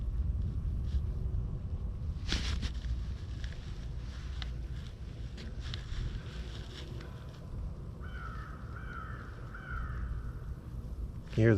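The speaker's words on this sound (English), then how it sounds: "You hear the crows in the background." Crows caw intermittently in the distance beside a calm river, set against steady wind and low rumbling outdoor noise, with no talk.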